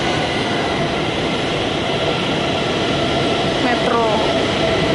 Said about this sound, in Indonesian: Ini stasiun bawah tanahnya, kereta bawah tanah.